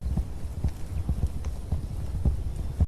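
Horses' hooves clip-clop steadily on the ground during a long ride across open country in the western Bone Tomahawk, a close, continuous, uneven rhythm of many hoofbeats with a faint low hum beneath.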